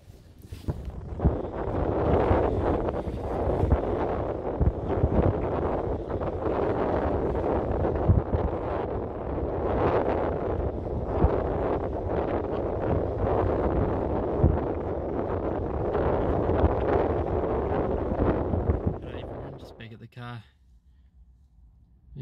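Strong 15–20 knot southwest wind buffeting a boat on a harbour at night, loud continuous roaring gusts battering the microphone for about twenty seconds before dropping off abruptly, with talk over it.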